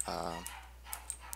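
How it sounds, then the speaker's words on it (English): Dogs bark inside a house, a short burst of several quick barks up front and then a few faint, distant yips, with no talking. "I apologize for the dogs. That's what happens when you live in a house with a bunch of dogs."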